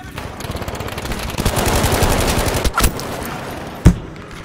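Automatic gunfire rattles in Battlefield 5, a fast steady burst of rapid shots that builds and then cuts off, followed by two separate sharp loud reports.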